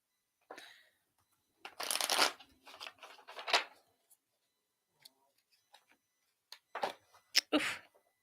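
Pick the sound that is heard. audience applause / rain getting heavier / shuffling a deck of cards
shuffling a deck of cards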